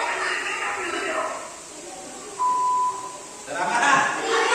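A telephone voicemail tone beeps once, a steady clear pure tone lasting about half a second, following a recorded voice and with background murmur around it.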